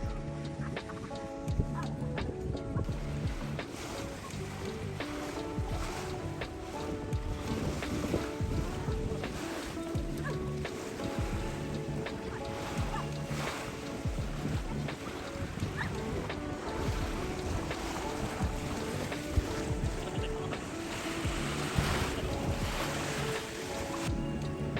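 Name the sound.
ocean waves on the shore near a coral reef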